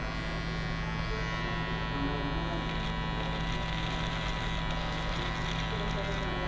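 Electric hair clippers fitted with a 1/4 inch guard cut hair on the side of a head in a barbershop, a close, steady buzzing drone with a constant hum that runs unbroken through the whole stretch.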